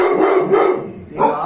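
A pet dog barks in rough, close bursts that run almost continuously before trailing off, and one last sharp bark comes at the end.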